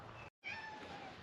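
A single short cat meow, close but quiet, sounds alone against faint indoor background noise.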